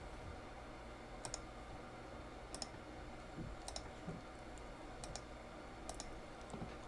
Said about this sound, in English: And then click open.